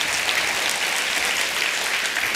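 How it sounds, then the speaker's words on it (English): A church audience applauds steadily, a dense wash of many hands clapping at once, with no speech over it. "round of applause"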